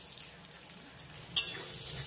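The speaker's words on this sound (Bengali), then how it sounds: "পেঁয়াজটাকে হালকা লাল করে ভেজে নেব" Chopped medium onion frying in a pan with tempered spices for a raw papaya and egg curry, a steady soft sizzle throughout with one brief sharp crackle partway through, no talking.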